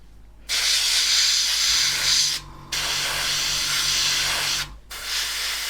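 Tamiya spray paint hissing steadily onto a model aircraft cockpit interior, three sustained bursts with two brief gaps, loud and close.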